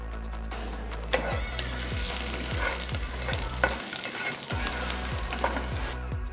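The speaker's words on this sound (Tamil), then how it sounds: "கொஞ்சம் கருவேப்பிலை போட்டு கிண்டுங்க." Mustard seeds, peanuts and curry leaves fry in hot sesame oil, giving a steady close sizzle and crackle, with repeated scraping strokes of a spoon stirring them in the pan.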